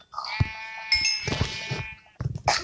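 A flock of sheep in a video game bleats loudly and close, several overlapping wavering bleats in quick succession with brief gaps between.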